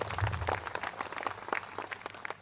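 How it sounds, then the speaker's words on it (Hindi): An audience at a public event at a cow shelter applauds, a crowd of irregular claps rising and falling over a couple of seconds, moderately loud with no speech over it. "चाहूंगी कि एक बार जोरदार तालियां आप लोग अपने लिए बजाएं"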